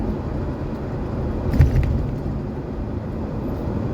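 A car overtakes a sugarcane truck on its way to a sugar factory, a steady road rumble with a brief louder swell midway as the vehicles pass.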